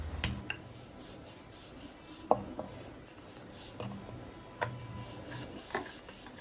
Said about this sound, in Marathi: थोडंसं पीठ लावून घ्यायचं आणि एकदम हलक्या हाताने पोळी लाटायची